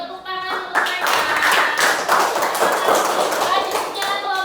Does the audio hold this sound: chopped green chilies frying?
no